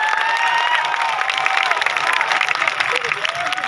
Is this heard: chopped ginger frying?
no